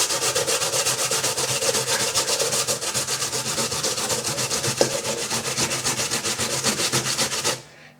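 Potatoes being ground by hand on a grater for potato kugel, a steady rapid rasping scrape repeating in quick even strokes, close and continuous, then stopping abruptly at the end.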